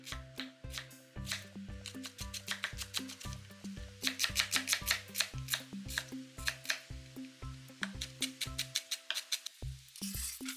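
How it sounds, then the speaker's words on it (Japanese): A knife finely chopping onion on a cutting board for hamburger patty filling, quick sharp taps in a steady rapid rhythm, close and fairly quiet, while soft tonal background music plays underneath. "玉ねぎをみじん切りにして、"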